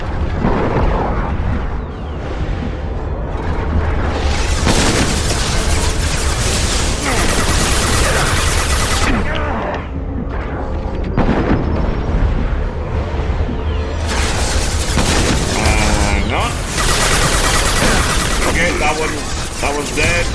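Dense explosions and bursts of gunfire fill a shooter video game, with booming blasts and rocket impacts layered nonstop at full loudness for the whole stretch, heavy and continuous with only brief dips.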